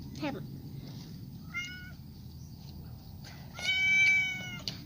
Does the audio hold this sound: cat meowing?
yes